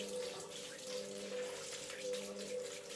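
Filtered water runs steadily from a tap over lupin seeds being rinsed in a sink, a constant close splashing stream with a faint tonal hum underneath.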